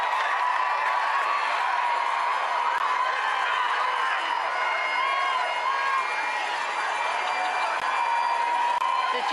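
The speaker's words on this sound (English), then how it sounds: "They're eliciting the biggest cheer yet from a crowd of several hundred packed behind their barriers just outside the historic Canongate Kirk." Crowd of several hundred cheering for the royal family outside the historic Canongate Kirk, a sustained, even roar of voices and shouts from behind barriers, steady and moderately loud with no pauses.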